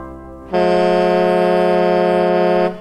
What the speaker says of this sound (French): Un coup de klaxon, c'est beau la vie